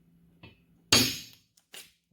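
In a ranch shop, a hammer strikes a metal punch to dent steel for drilling: one sharp, bright metallic strike, with a small tap before it and a lighter tap after, in an otherwise quiet room.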